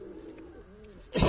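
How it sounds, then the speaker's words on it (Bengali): A disturbed pigeon in a loft gives a few soft, low coos close by, followed by a short burst of louder rustling or fluttering at the end. "এই পায়রাটা মনে হচ্ছে একটু ডিস্টার্ব হচ্ছে"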